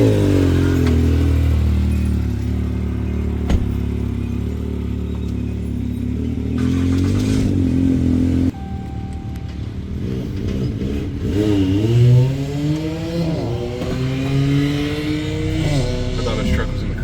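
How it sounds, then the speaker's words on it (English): Pickup truck engine climbing a hill outdoors while helping tow or push a side-by-side, revving and rising in pitch with gear changes, the engine note steady and near, with people talking over it. "And the truck goes up first, that way we have the momentum of the hill to help us."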